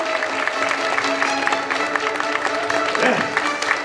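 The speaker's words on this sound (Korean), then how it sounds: "첫 번째 넥서 페이커 선수에게 큰 감사의 박수를 부탁드립니다" An esports audience at an LCK Hall of Legends media day gives a warm round of applause for Faker, steady clapping with crowd murmur under it for several seconds.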